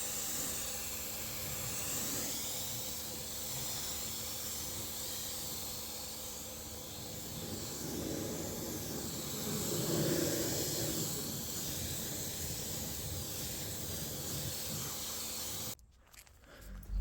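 A pressure washer blasts water over a Porsche 911, reaching into wheel arches and across the windshield, producing a continuous loud hiss and spray that cuts off abruptly near the end.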